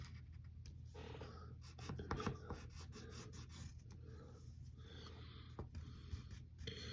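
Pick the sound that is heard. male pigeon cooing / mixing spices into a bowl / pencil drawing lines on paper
pencil drawing lines on paper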